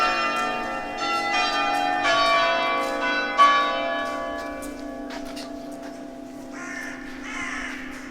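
Church bells ring in sustained, overlapping tolls at Versailles, then a few crows caw fairly close toward the end, with no voices.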